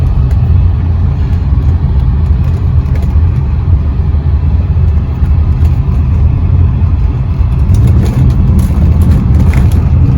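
A Bentley Brooklands Turbo's turbocharged 6.75-litre V8 with a 4-speed automatic drones loud and steady from inside the car, a low continuous rumble while driving, with no talking.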